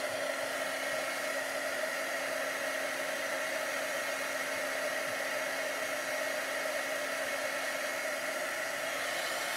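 A hair dryer blows steadily and loudly at close range, drying paint on an unidentified wooden craft piece for a Christmas project; a continuous even whoosh with a faint hum, no talk.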